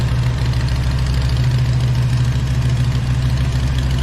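A Harley-Davidson motorcycle engine idles while it warms up, giving a steady, loud, low rumbling drone with a continuous throb that stays even throughout, close to the microphone.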